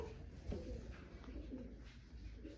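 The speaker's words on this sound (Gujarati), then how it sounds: "જો મિત્રો કબૂતર આવ્યા ને તે મારે સીધો જોવસ" Pigeons coo softly in the background, faint and low with a few murmuring calls over quiet room noise.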